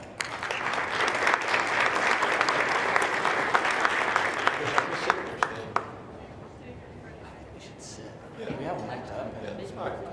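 Audience applause at a national conference on the U.S.-China trade war, welcoming a panel: steady clapping for about six seconds with a few sharp nearby claps, then fading to a murmuring room.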